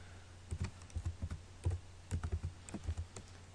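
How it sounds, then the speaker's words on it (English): Rapid, uneven keyboard typing, close up, with bursts of key clicks and short pauses between them. "Not doing very well with the typing today."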